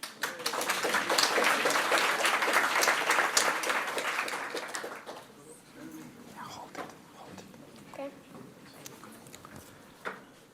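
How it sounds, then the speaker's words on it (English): Conference audience at DevFest Vienna claps for the youngest speaker, a steady round of applause that fades after about five seconds into scattered claps and quiet room noise. "please give a round of applause for our youngest speaker here."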